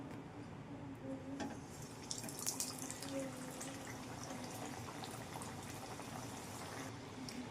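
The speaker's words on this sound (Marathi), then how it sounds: "मसाला भरून तर तळून घेणार आता लो हिटवर करणे आहे" Potato patties made with wheat flour and stuffed with spiced filling frying in oil on low heat, giving a faint, steady sizzle and bubbling with scattered soft crackles and no talking.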